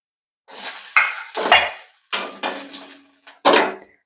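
Grated coconut stir-fried in a pan for a chutney, heard as short separate bursts of scraping and spatula clatter against the metal with quiet gaps between, close and fairly loud.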